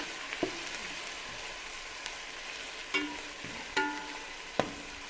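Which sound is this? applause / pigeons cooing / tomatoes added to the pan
tomatoes added to the pan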